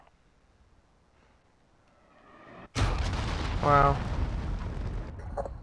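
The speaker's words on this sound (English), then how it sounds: "Enemy cruise missile." After a quiet stretch, a loud in-game enemy cruise missile strike booms suddenly, then rolls into a sustained roaring rumble while a player briefly exclaims.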